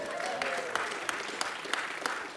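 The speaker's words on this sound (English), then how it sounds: "So we can kind of backdate that applause a little bit to everybody else" Audience applause at a memorial lecture on culture, a steady patter of many hands clapping from a seated crowd in a hall, fairly faint and even throughout with no speech over it.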